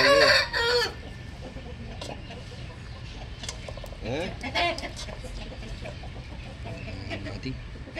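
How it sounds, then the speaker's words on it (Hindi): Aseel roosters cluck and crow in a home-bred backyard flock, starting with a loud nearby crow, then scattered clucks and calls that continue under someone speaking. "मुर्गे कैसे लग रहे हैं बताइए ज़रा।"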